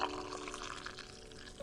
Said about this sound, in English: slowly pour the hot water into your mug